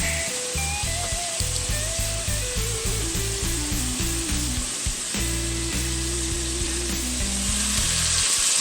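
A tough cut of meat browning in a hot pan, giving a steady loud sizzle throughout with music playing along underneath and no talk.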